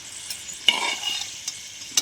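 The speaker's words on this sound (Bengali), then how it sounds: "তো ব্রোকলিগুলো আমরা ভেজে নেব।" Broccoli and chicken frying in oil in a pan, a steady close sizzle with a few sharp scrapes and clinks of stirring.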